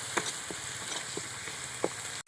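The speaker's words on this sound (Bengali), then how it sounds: "আমি একটু পেঁয়াজটা ব্রাউন কালার করে ভেজে নেব" Onion paste frying in a pan for chicken rezala, a steady soft sizzle with a few faint clinks of a spatula scraping the pan.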